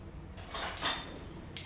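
A metal measuring spoon is taken out in a home kitchen, with a brief clatter of utensils and a couple of light metallic clinks, fairly close, with no voices.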